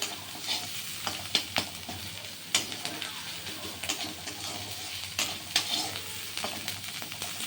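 Vegetable filling for momos frying in a little oil, hissing steadily while a spatula scrapes and taps the pan in frequent irregular strokes, close by.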